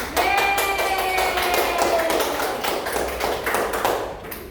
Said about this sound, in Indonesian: kita tepuk tangan kepada kelompok yang terakhir sudah mempresentasikan hasil karyanya